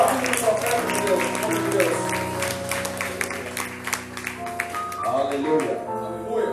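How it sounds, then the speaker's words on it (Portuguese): A congregation at a church conference claps along in a lively, rhythmic burst beneath music and a voice speaking over it, the clapping steady and moderately loud throughout. "So let's put our hands together for the Lord."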